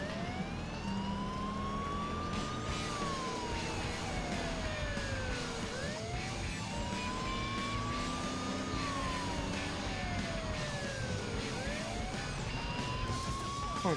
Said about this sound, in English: I'm gonna yoink this cop car and drive into the DA